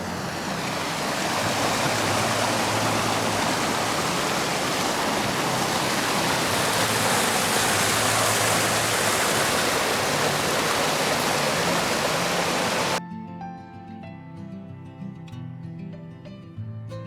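The right fork of Injune Creek rushes along in a loud, constant roar of flowing water for most of the stretch, then cuts abruptly to a much quieter section with faint tonal sounds.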